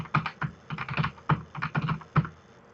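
Typing on a computer keyboard while entering values into a spreadsheet: an irregular run of close, crisp key clicks and taps with no talking.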